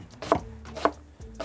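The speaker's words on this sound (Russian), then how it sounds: "Я буду разрезать картофель напополам." A kitchen knife cuts potatoes in half on a board, three crisp, close chopping knocks spaced about half a second apart, with no talking.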